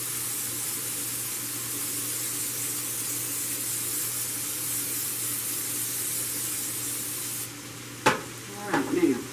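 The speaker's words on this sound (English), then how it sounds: "Spray the bottom of my pan." Cooking spray is sprayed onto the bottom of a baking pan for apple pie chess bars: a steady, close hiss lasting several seconds, followed by a couple of short clattering knocks.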